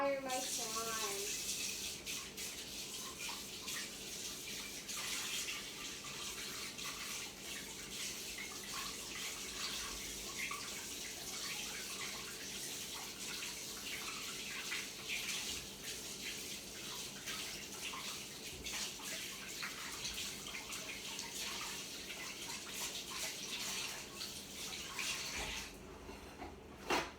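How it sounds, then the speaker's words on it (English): Tap water runs steadily into a sink while hands are washed, a continuous hissing splash that stays at an even level throughout. "I think I should just go wash my hands"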